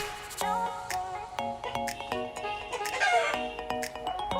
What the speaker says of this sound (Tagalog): Lingasang manok oh.